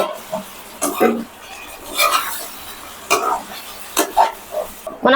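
Drumsticks being stirred into onion masala in a pan, with intermittent scraping and clinking strokes of a spoon against the pan at an irregular rhythm, close and moderately loud over a faint background.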